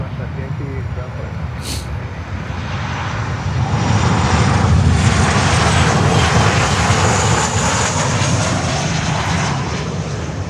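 Aircraft engines roar steadily at Miami Airport as cargo and passenger planes taxi and move on the field, a broad loud rumble swelling midway and holding, with a faint voice underneath.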